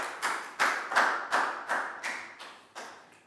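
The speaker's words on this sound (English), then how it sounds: "Big round of applause for Lakgao, please, guys." Slow, evenly spaced clapping in a Year 4 maths classroom, roughly eight distinct claps from a few pupils, moderately close, fading after about three seconds with no voices.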